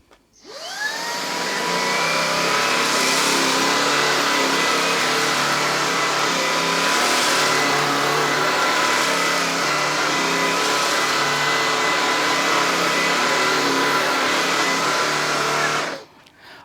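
A Shark IZ380UKT cordless vacuum cleaner whirs to life and runs steadily at close range as it picks porridge oats off carpet, a loud, even motor whine lasting about fifteen seconds before switching off.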